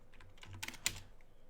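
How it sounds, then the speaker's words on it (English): A short, quiet burst of keystrokes on a computer keyboard, a few soft clicks close by with no talking. "Typing is hard."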